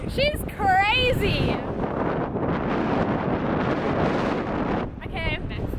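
Strong, steady wind roars and buffets the microphone throughout, with brief voices breaking through near the start and end.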